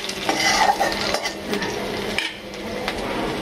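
Garlic, tomato, onion and green chilli fry in hot oil for dal while a spoon stirs the pan, a steady close sizzle broken by scraping and clinks of metal, with no talking.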